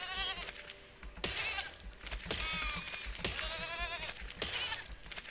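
A sheep in the video game Besiege, glitched after spawning inside a rock, bleats over and over in quick succession, each cry sharp and clear, with no talking.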